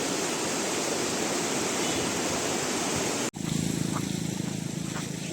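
Chaliyar river at Nilambur in heavy, fast flow: a loud, dense rushing roar of water that breaks off abruptly for a moment and then resumes just as steadily.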